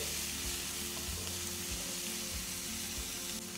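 Onions frying in a pan while making chilli paneer, a constant close sizzle with a low steady hum beneath and occasional soft stirring knocks, no talking.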